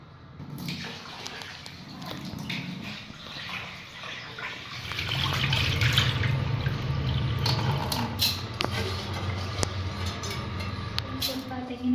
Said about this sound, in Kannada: ರೈಸನ್ನು ಚೆನ್ನಾಗಿ ತೊಳಿಬೇಕು.